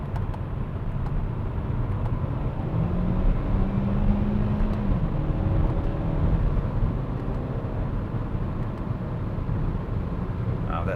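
A 2020 Kia Soul GT-Line pulls away with its 7-speed gearbox, the engine note rising steadily with a quick shift partway through, heard from inside the cabin over a constant road and wind rumble.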